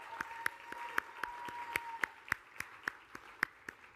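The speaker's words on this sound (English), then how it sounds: "Give her a round of applause." A small audience claps in scattered, uneven bursts, fairly faint and sounding a short distance away, lasting a few seconds.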